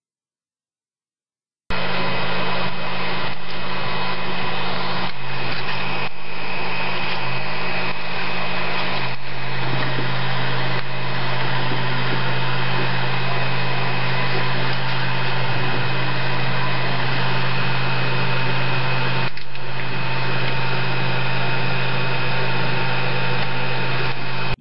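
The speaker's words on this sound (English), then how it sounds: "Move the axis that you apply grease to back and forward several times." A CNC machine axis drives back and forth on a freshly greased lead screw. It makes a loud, steady motor whir that runs almost unbroken, with a few brief shifts in tone where the travel appears to reverse.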